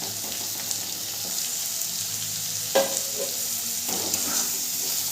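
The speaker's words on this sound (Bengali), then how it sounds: "এরপরে দিয়ে দেবো কেটে রাখা টমেটোটা।" Chopped tomato goes into hot oil for a soybean and potato curry, giving a steady close sizzle of frying with a sharp burst as it lands and a few soft stirring sounds afterward.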